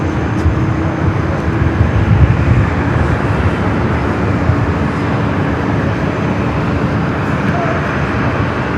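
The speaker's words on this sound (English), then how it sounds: "Alaska and the Star Wars livery heading to Portland, flight 1355." An Alaska Airlines Boeing 737-800 in Star Wars livery, at Los Angeles airport, gives off a loud, steady broadband jet roar that holds without a break throughout.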